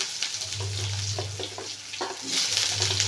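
Curry leaves and chopped large onion frying in a hot pan, a steady crackling sizzle with brief stirring scrapes and clinks, close and continuous, with a low hum underneath.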